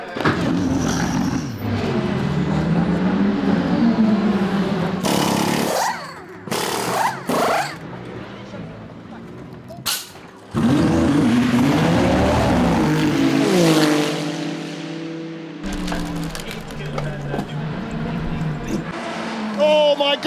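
Ferrari and Cadillac hypercars racing at Spa, engines roaring and shifting pitch as the cars pass and accelerate, with abrupt cuts between onboard and trackside sound, under continuous excited commentary.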